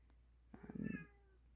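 A cat meows once, a fairly faint, drawn-out call in a quiet room lasting under half a second, with no talking around it.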